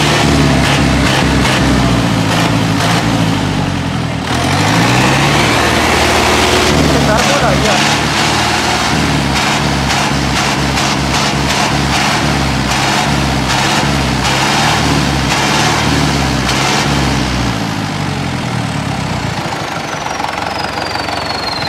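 A tractor engine runs loud and close with a steady knocking, chugging idle that shifts pitch briefly partway through and continues throughout, with no talking.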